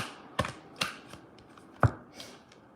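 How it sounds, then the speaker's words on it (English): Tarot cards are shuffled by hand, giving a few sparse, crisp snaps and soft papery rustles, close and fairly quiet, with no talking. "as I am shuffling these cards"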